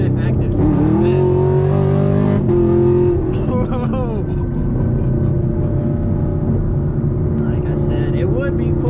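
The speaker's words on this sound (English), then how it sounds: "put it in track mode, mash the gas one time, performance shift active" A 2017 Chevrolet Camaro SS running on E85 fuel revs hard under full acceleration in track mode, the loud engine note climbing and dropping through quick gear shifts from inside the cabin, with a voice talking over it.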